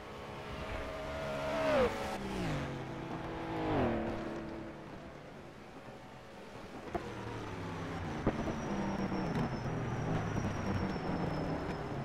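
A Ferrari race car's engine revs through repeated rising and falling harmonic sweeps during a historic circuit race at Longford, loud and close, with a faint high whine entering later.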